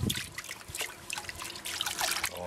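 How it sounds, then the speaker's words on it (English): River sand being panned for gold, water sloshing and trickling continuously in the pan up close, with fine splashy swirls rising and falling throughout. "pan number one of Andrew's material."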